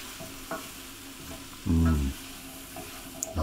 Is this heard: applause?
no